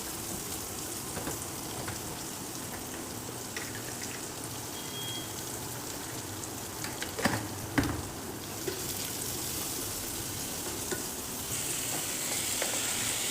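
Garlic and onion frying in a pan with a little salt, a soft continuous sizzle and crackle with a few stirring scrapes and knocks in the middle, quiet and with no speech.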